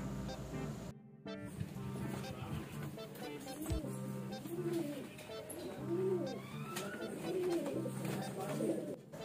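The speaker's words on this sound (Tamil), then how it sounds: "புறாக்களை திறந்து விட்டுடலாம்" Pigeons coo repeatedly in soft, rounded calls after being let out of their boxes to feed, with a steady background hum and occasional clatter around them.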